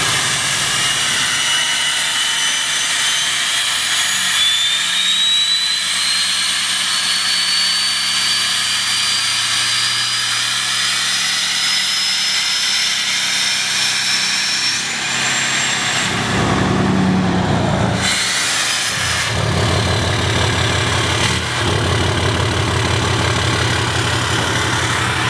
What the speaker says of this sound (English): You guys can hear this thing whistle with the exhaust brake.